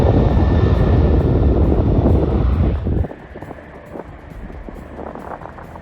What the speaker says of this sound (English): a C-5M Galaxy military transport plane took off too slowly